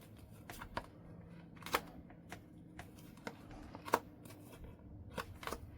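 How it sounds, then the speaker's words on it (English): Tarot cards being shuffled by hand indoors, with soft, irregular riffling bursts and flicks of card stock at close range, fairly faint, with no speech. "You saw me shuffling, guys?"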